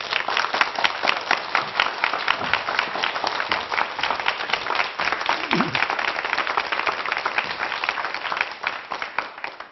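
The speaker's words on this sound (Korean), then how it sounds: "우리한테 오늘 유익한 여행의 강의를 해주실 장석주 작가님을 큰 박수로 모시겠습니다" An audience applauds warmly to welcome a lecturer onto the stage at a televised talk. Dense, steady clapping from many hands fills the room for the whole stretch at a fairly even loudness.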